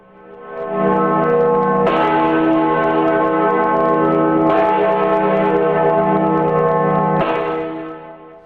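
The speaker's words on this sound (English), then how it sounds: "The Great George Bell remains an integral part of this great academic building." The Great George bell rings in the tower of a great university building, with three deep, resonant strikes about two and a half seconds apart, each blooming over a long, humming sustain that never fully fades.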